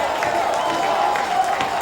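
Baseball crowd at an Atlantic League Championship Series game, a steady roar of cheering and scattered clapping that holds at an even level through the whole stretch while a closer pitches in the ninth inning.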